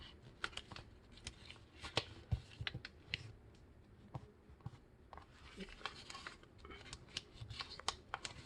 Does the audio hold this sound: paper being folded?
yes